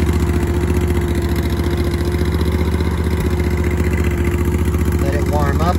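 A Multiquip AR 14 commercial vibratory roller compactor's engine runs steadily at idle after a cold start with the choke partly pulled, a loud continuous near throb with mechanical clatter throughout.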